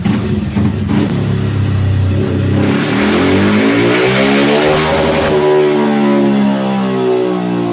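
A Honda CB 300 motorcycle is run hard in third gear on a dynamometer while the engine warms up. The loud revving climbs steadily in pitch over several seconds, then eases toward the end.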